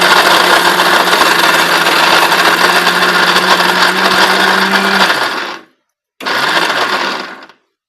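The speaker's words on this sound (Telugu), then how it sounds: "ఇక అన్నీ చక్కగా చేసి వివరించి మిక్సీలో ఆడి కూడా చేపిస్తాను నేను" A kitchen mixer grinder whirs loudly as it coarsely grinds red chillies with tamarind and salt for a chutney, a steady roaring buzz that cuts out, pauses briefly, then runs again for a short burst.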